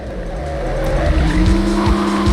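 Tire squeal and roaring engines from a car pile-up in the PS1 racing game Test Drive 4, a loud sustained screech rising over dense engine noise and impacts.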